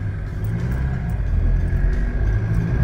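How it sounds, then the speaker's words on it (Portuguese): A Chevrolet S10 pickup truck in 4x2 climbs an off-road obstacle. Its engine gives a deep, steady rumble that swells slightly as it strains, heard close and loud without talk. "Olha lá, a caminhonete vai indo."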